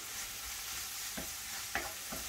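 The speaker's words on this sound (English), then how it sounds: "You need to stir it over the heat so it doesn't burn." Food in a pan over the heat, being made for American-style tostadas, sizzles softly and steadily, with a few light scrapes of stirring.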